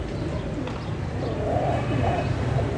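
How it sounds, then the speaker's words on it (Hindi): Soft, low pigeon cooing under a muffled background rumble, a few gentle coos close by. "दोनों कबूतर काबू आ चुके हैं"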